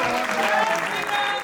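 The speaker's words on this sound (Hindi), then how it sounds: "बहुत जोरदार तालियों से भाई प्रताप जी को आमंत्रित करें।" An audience applauds to welcome a poet onto the stage at a Hindi comedy poetry event, a dense, steady wash of clapping filling the short moment.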